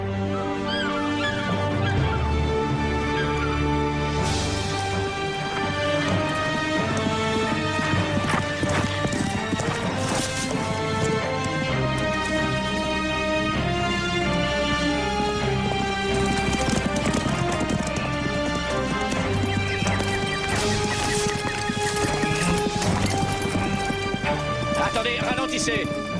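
Horses galloping in a 1997 Robin Hood television adventure, with steady clip-clopping hooves running throughout under a loud, continuous orchestral music score.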